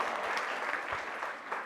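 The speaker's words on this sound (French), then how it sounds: "Un tonnerre d'applaudissements aussi." Applause from an audience at the Jodi Solo 2 show, a short, fairly quiet burst of mixed clapping lasting under two seconds, heard at some distance.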